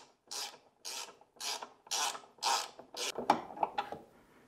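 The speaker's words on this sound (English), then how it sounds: "This is where I'm going to use the 3/8 socket with the extension on my ratchet." A ratchet fitted with a 3/8 socket and extension drives a bolt on the front axle cover of a Toro Timemaster mower. About seven steady, close raspy clicking strokes repeat in an even rhythm, with no talk.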